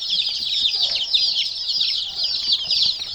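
Young white Spanish chickens, about fifteen days old, in a coop: a continuous chorus of high, shrill cheeping and clucking from several birds at close range, steady and fairly loud throughout, with no talking.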